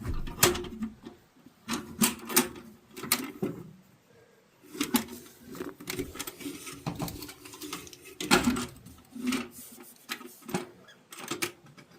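Repeated plastic clicks, snaps and rattles as a snack canister is opened and closed at a trail shelter, close up and irregular, in short bursts separated by brief pauses.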